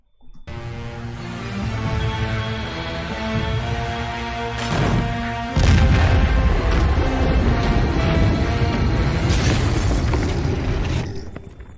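Tank cannon fire and explosions rage during a Godzilla versus Gamera kaiju battle, a loud continuous wall of booms with sharp blasts near 5 and 5.6 seconds, then sustained heavy rumbling and crashes until it fades at the end.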